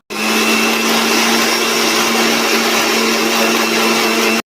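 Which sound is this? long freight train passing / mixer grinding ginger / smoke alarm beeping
mixer grinding ginger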